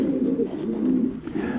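Domestic pigeons, a female and a red Titan male, cooing close by in a low, throaty, continuous rolling murmur with no voices over it.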